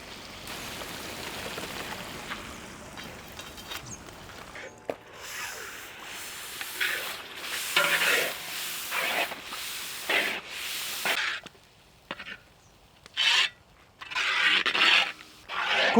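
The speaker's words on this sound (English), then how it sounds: "Cook until evaporates excess water from the tomato puree." Tomato puree sizzles and bubbles as it cooks down in a pan, a crackling, rain-like patter with scraping and stirring, steady at first and then breaking into irregular bursts and pauses.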